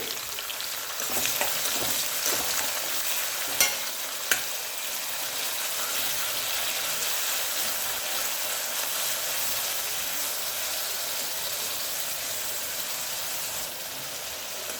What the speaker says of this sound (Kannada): ಇದು ಸ್ವಲ್ಪ ಕೆಂಪು ಬಣ್ಣ ಆಗೋವರೆಗೂ ಫ್ರೈ ಮಾಡ್ಕೋಬೇಕಾಗುತ್ತೆ